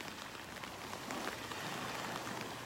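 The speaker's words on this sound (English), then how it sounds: "I don't know if you could hear him over the rain hitting the umbrella and the waves." Soft, steady patter of rain drumming on a taut umbrella overhead on a beach walk in North Naples, Florida, a dense close hiss of drops with no voices.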